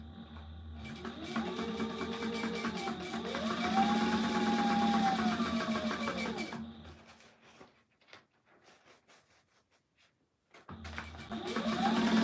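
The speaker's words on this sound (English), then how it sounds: "This is not a console. This is actually a fabricator. It's a pretty good sewing machine." A sewing machine runs in a long, close, mechanical whir that speeds up and slows in waves, stops for a few seconds of near quiet with faint ticks, then starts again.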